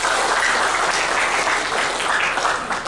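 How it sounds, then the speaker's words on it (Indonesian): Students applaud at a college leadership inauguration ceremony in Bengkulu, a steady, dense burst of many hands clapping that stays loud throughout. "Tepuk tangan para siswa."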